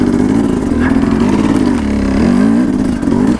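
An enduro motorcycle on a snowy winter trail ride chugs along under gentle throttle, a close, loud, steady low engine thrum that rises and falls slightly as the revs shift.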